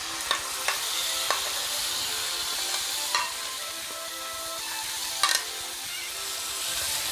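Steady sizzling of chicken frying in a pan, with occasional stirring scrapes and clicks; no talking.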